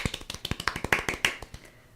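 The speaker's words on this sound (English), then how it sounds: "I think that deserves some claps" A small group claps in an indoor room, a brisk burst of roughly twenty sharp hand claps in an uneven rhythm, close and fairly loud, tapering off after about a second and a half with no talking.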